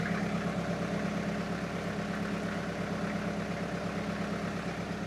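A tractor engine idles steadily nearby, a low throbbing rumble with a regular pulse that holds unchanged throughout, with no voices.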